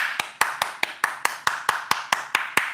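An audience gives a single round of hand claps, about a dozen sharp, evenly spaced claps in a steady rhythm, close and clear with no talking over them.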